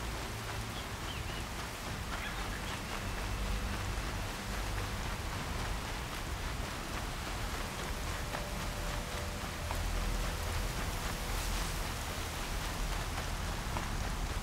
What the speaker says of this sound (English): Some fucking heavy rain.